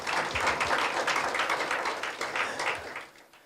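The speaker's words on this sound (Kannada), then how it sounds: "ಸೊ ಇದೆಲ್ಲ ಕೊಟ್ಟಂಥ ದೇವರಿಗೆ ಒಂದು ಚಪ್ಪಾಳೆ ತಟ್ಟೋಣ" A church congregation clapping together, a dense, steady patter of many hands that carries on for several seconds before thinning and fading at the end.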